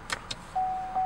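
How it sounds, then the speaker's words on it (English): Electronic parking brake switch in a 2013 Buick LaCrosse, giving a couple of quick soft clicks followed by a steady, moderately loud electronic chime tone that holds to the end. "This is actually an electronic parking brake."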